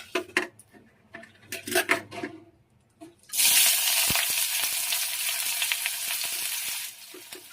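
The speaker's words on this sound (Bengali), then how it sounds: "তেল গরম হয়ে গেছে, এখন আমি পেঁয়াজটা দিয়ে দেবো।" Sliced onion dropped into hot oil for a fish curry: a few knocks and clatters, then a sudden loud burst of sizzling that hisses steadily for several seconds before cutting off, close with no talk.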